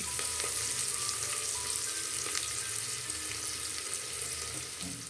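Onion, green chili and garlic frying in oil for a spinach sambar, a close, even, continuous sizzle with faint occasional stirring clicks and no voices.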